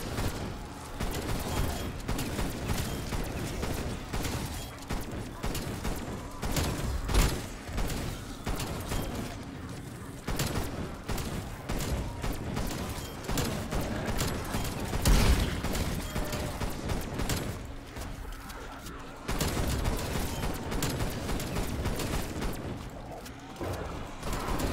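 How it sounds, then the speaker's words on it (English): Gallo shotgun firing automatically in Call of Duty Cold War zombies, rapid continuous blasts layered with mechanical clatter and game effects, loud and dense throughout. "the Gallo is actually a automatic weapon when you pack a punch it"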